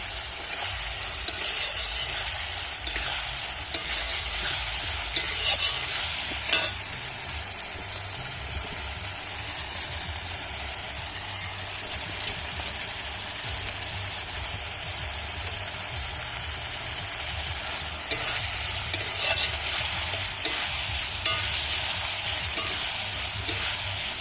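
Pangas fish sautéing in a pan with salt and turmeric, a continuous close sizzle broken by repeated stirring clicks and scrapes, with no talk.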